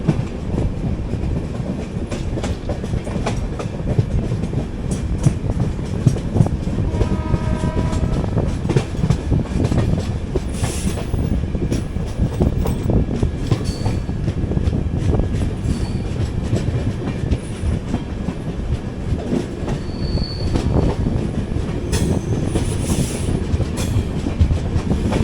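The Kochuveli Superfast Express rolls into Bhatkal station, heard from on board as a loud, continuous rumble with rhythmic clickety-clack of wheels over rail joints and occasional faint squeals, without talk.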